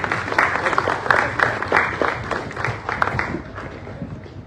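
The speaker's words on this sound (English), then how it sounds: "A big round of applause for him." Audience applause for a panelist, a former BBC correspondent, at a civic education event; steady mid-distance clapping from a room full of people, rising and holding for several seconds.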